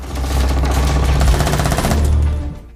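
Loud, rapid bursts of gunfire ring out in a film shootout between an assassin and a gang boss's bodyguards in a theatre box, a fast chattering volley that fades out at the end.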